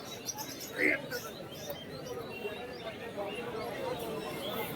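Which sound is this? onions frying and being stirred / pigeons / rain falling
pigeons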